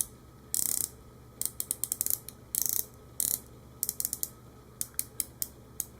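The rotating bezel of a 300m dive watch being turned, giving bursts of fine, crisp ratcheting clicks, some in quick runs and others as single detents, close up and with no voices.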